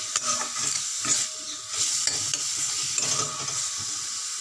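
Coriander paste with green chili and garlic sizzles steadily in a hot pan while a utensil stirs and scrapes through it in repeated strokes, close and continuous.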